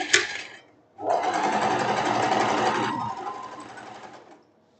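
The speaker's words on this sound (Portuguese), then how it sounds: "Vamos lá costurar agora o nosso revel." A sewing machine stitches the hem of a silk blouse, starting with a short burst, pausing, then running steadily for about three seconds before slowing and stopping, close and clear.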